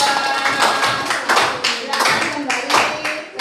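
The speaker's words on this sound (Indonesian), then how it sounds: "Oke, tepuk tangan dulu untuk kelompok 2" A classroom claps for a student group after their presentation on food chains, with distinct, rhythmic close-up claps and some talking mixed in.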